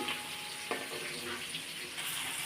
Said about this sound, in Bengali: এবার কড়াইতে ওই তেলের ভিতরে পেঁয়াজটা ভালো করে ভেজে নেওয়া হচ্ছে